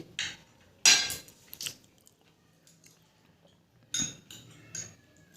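A spoon scrapes and clinks against a bowl of payesh in a few separate bursts, with quiet chewing between them, heard up close with no talking.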